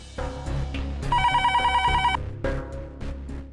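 A telephone rings loudly with a rapid, trilling electronic bell, a steady burst over a low musical backdrop.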